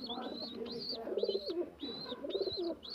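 A pigeon near its chicks coos in a steady, repeated rhythm, soft throaty calls close by with light chirps over them.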